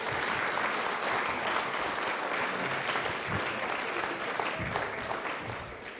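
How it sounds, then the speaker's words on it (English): A church congregation at a Christmas morning Baptist service applauds children, a full, even burst of clapping throughout that eases off slightly at the end. "Give them a round of applause."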